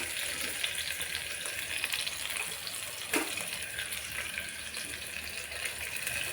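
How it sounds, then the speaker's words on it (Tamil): Onions, chillies and curry leaves sautéing in oil in a pan, a continuous soft sizzle and hiss with light stirring scrapes and one brief clack partway through, steady and fairly quiet, no talking. "வெங்காயம், மிளகாய், கருவேப்பிலை போட்டுக்கோங்க. நல்லா வதக்கி விட்டுக்கோங்க."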